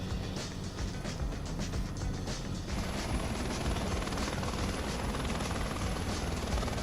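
A helicopter, an H130 or H125, flies in Microsoft Flight Simulator 2024 over Chilean Patagonia, its steady rotor and turbine drone loud and continuous throughout with no talk.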